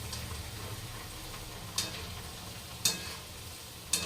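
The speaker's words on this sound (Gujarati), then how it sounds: "હવે આપણે પૌવા તળી લઈએ પહેલાં તો." Poha (flattened rice) frying in hot oil for chevdo, a soft steady sizzle with a few sharp clicks and taps of a spoon against the pan, close and alone without talk.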